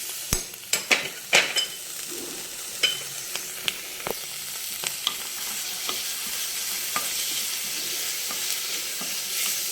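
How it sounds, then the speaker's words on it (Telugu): Mint leaves and green peas fry in a pan with a steady sizzle, while a metal spoon stirs and clinks against the pan several times. The sound is close and clear, with no talking. "కొంచెం పుదీనాకు, గ్రీన్ పీస్ కూడా వేసేసుకుందాం."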